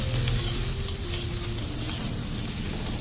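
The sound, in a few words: chili tempering sizzling at a chaat stall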